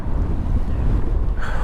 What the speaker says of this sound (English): This wind is just way too strong